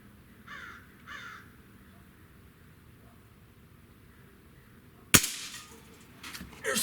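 A Gamo Magnum .22 breakbarrel air rifle fires one sharp, loud crack outdoors, with two distant crow caws heard earlier and faint rustling afterward.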